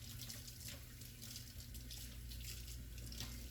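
Water runs steadily from a kitchen tap as hands are washed during rib preparation, a constant splashing hiss with no speech over it.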